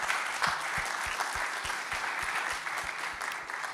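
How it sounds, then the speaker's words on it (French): A conference audience at a forum on innovative solutions applauds after a presentation, a steady wash of clapping with a few louder individual claps standing out near the front, continuing throughout. "On peut vous applaudir."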